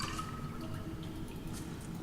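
Water is picked up in the Subnautica video game, a soft liquid drip-and-squish effect that is quiet and brief, with no talk over it.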